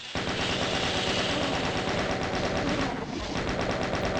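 Chaingun fire in the video game DOOM, a continuous rapid burst of loud gunshots close up, briefly dipping before resuming, with no speech.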